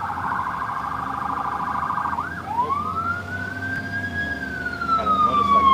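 Police motorcycle siren passing nearby, a loud rapid yelp that switches to a rising and falling wail, with traffic rumble underneath.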